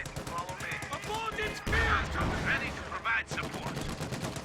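Rapid bursts of MG34 machine-gun fire from the Company of Heroes 2 video game, crackling steadily through the clip with heavier battle noise mid-way, mixed with other gunfire.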